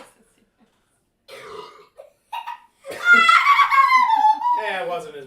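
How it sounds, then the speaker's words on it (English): A loud, drawn-out burp sounds close by after some faint stirrings, followed by giggling and a voice. "There's gonna be a loud burp coming here in a minute."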